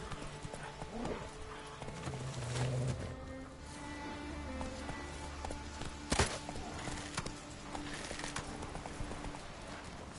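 Horse hooves in The Witcher 3, a steady clip-clop of a ridden horse moving at pace with a brief snort, close and continuous under ambient game sound.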